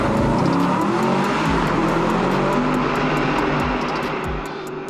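Mercedes-AMG SLS Black Series engine roaring loudly and steadily up close, with sweeping rev changes and gear-shift dips, easing slightly toward the end.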